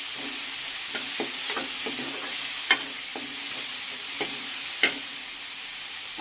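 Mutton curry frying in a pan, Telangana style with no added masala powder, gives a steady soft sizzle with occasional stirring clicks and scrapes.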